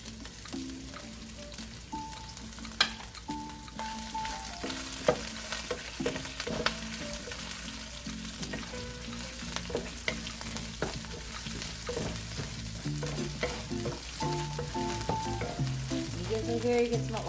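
Pre-boiled pork bungs fry in a hot pan with dry pepper, a constant close sizzle with repeated scraping and clinking of a utensil stirring the pieces, no talk.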